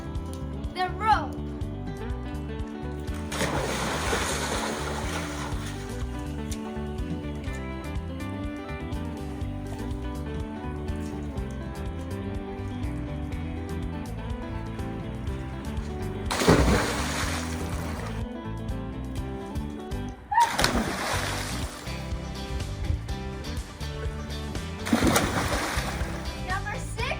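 Splashing in a backyard pool with a rope, several bursts of water splashing against steady background noise, with a voice and other talk in between.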